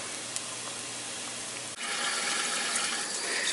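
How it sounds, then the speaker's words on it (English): A kitchen faucet runs as a package of salmon is rinsed underneath, a steady splashing stream that shifts in tone midway as the water hits differently, with no talking. "make sure you rinse it off underneath the faucet"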